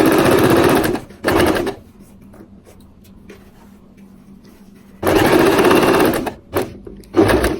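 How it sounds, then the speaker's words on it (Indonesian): A sewing machine stitches the side pocket of men's trousers in two loud, fast runs, with a pause of near quiet and a few faint handling sounds between them, then short bursts of stitching at the end. "Nah, dijahit renggang."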